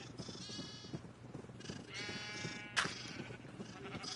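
Minecraft sheep bleat over and over in a nasal, wavering chorus of overlapping calls. The flock sounds close and steady, with no talking.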